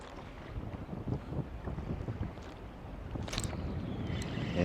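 Wind buffets a fishing boat out on a lake, a steady gusty rush that rises and falls, close and fairly quiet, with no talk.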